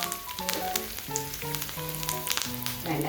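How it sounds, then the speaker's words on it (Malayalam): Curry leaves and two green chillies sizzle and crackle loudly in hot oil where mustard seeds have already popped, a continuous frying hiss under background music. "കടുക് പൊട്ടി അതിനകത്തേക്ക് നമ്മൾ കറിവേപ്പിലയും 2 പച്ചമുളകും ഇട്ട് കൊടുക്കുക"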